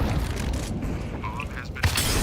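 Grenade explosion in Counter-Strike 2 gameplay, a heavy boom with crackling debris among other in-game gunfire and mechanical noise, with a player's voice talking over it.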